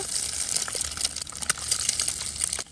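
Egg whites fry in coconut oil in a kadai with a dense, bright sizzle and crackle, pulsing with spatters and occasional stirring scrapes, heard close up with no talking.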